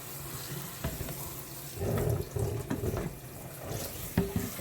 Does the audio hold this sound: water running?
yes